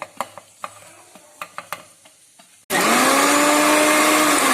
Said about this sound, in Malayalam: ബാക്കി തേങ്ങ എടുത്ത് ഒതുക്കിയെടുക്കുക മിക്സിയിലൊന്ന് ചെറുതായി.